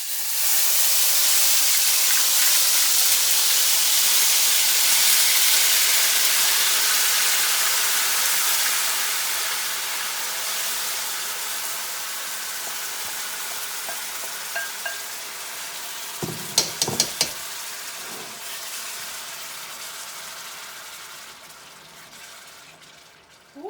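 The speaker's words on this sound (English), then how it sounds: "As you can see, I'm adding it now to the oil." Vegetables frying in hot oil in a home kitchen pan, a steady broadband sizzle that slowly fades over time, broken near the end by a few sharp clanks of a utensil stirring.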